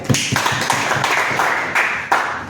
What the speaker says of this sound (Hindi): राइट आंसर, तालियां बजाओ उसके लिए भाई